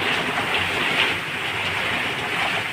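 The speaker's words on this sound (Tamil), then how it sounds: "செம மழை, அது காற்று மழை விட்டு விளையாடுது." Heavy wind-driven rain pours down outdoors in a steady, dense hiss with no pauses, moderately loud and unbroken throughout.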